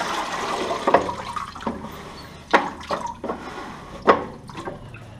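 Dirty water being poured out of a bucket after grouting porcelain stoneware floor tiles, a broad splashing gush with several sharper slosh bursts, close and moderately loud, no talking.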